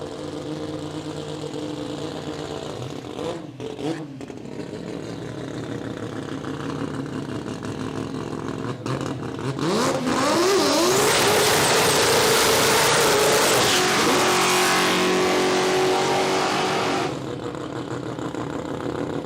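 An RX-7 drag race car at a dragway idles with a rough mechanical rattle, then revs hard, climbing into a loud, high, sustained wail before easing back.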